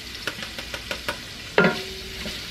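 Sliced kielbasa and a medium onion sautéing in a soup pot, a low sizzle broken by light stirring taps and scrapes, then two louder clanks from utensil against the pot.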